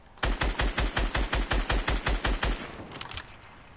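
Rapid automatic gunfire from a video game, a steady burst of about fifteen evenly spaced loud shots over two seconds, then a few fainter clicks trailing off.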